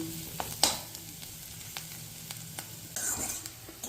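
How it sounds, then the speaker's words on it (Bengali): Semolina stir-fried in a pan for upma, giving soft dry scraping and faint sizzle with a few sharper clinks of the spatula against the pan, fairly quiet and steady throughout. "এবার সুজিটা ভাজা ভাজা করে নিচ্ছি 5 মিনিটের জন্য"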